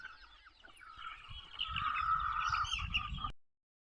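Chickens, a mix of chicks and grown hens, clucking inside a 20 by 60 poultry shed built of poles and bamboo; a dense, continuous chorus of clucks swelling louder toward the middle, with no talking.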